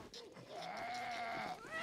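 A farm animal in the survival game 7 Days to Die, Darkness Falls mod, gives a single drawn-out nasal bleating snort close up, lasting nearly two seconds over faint game ambience.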